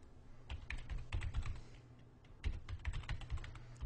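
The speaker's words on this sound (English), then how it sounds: "I'm going to choose the new keyword option here and type that in." Quiet, close keystrokes on a computer keyboard as a keyword is entered, an irregular run of soft clicks and taps in short bursts with no talking.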